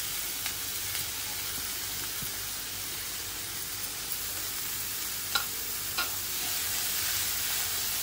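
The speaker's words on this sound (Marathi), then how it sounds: "आता पनीर मी हाताने असा फोडून घेतलेला आहे, तो घालायचा पहिला।" Torn paneer pieces frying in a pan with sautéed capsicum and onion, a steady faint sizzle with a few soft clicks of stirring, no talk.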